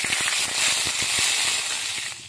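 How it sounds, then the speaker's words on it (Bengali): Loud, bright hissing sizzle of dried chillies, bay leaves and whole cumin in hot mustard oil, with rapid crackling pops throughout, close and intense before easing off slightly. "শুকনো লঙ্কা, তেজপাতা, গোটা জিরেটা ভাজা হয়ে গেছে"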